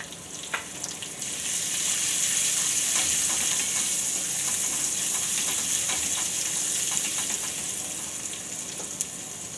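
Asafoetida and dried chillies sizzle hard in hot oil for a Gujarati poha-potato snack, a loud, steady, close hiss that swells after the first second and holds with faint crackles throughout, with no talking.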